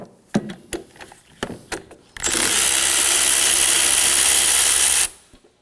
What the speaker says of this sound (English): Using a 14mm socket, we're going to go ahead and remove both of the wiper nuts.